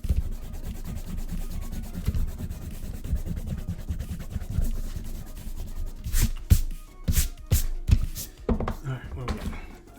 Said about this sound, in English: eraser.